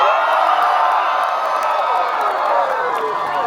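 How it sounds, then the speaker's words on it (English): Audience at Knott's Scary Farm letting out a sustained, loud wall of screams and shrieks, many voices together at close range for several seconds. "we want blood-curdling screams"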